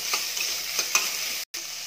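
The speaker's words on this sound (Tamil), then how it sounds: "கொஞ்சம் உப்பு சேர்த்து நல்லா வதக்கி விட்டுக்கலாம்." Onions with salt being sautéed and stirred in a pan give a steady close sizzle, with soft scraping strokes of a spoon and a brief dropout near the end.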